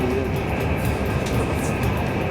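A train runs along the rails in the Netherlands, heard from inside as a steady loud rumble with a constant hum and no distinct clicks.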